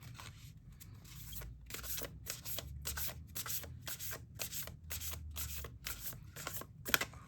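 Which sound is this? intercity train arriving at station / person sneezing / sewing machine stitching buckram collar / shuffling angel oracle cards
shuffling angel oracle cards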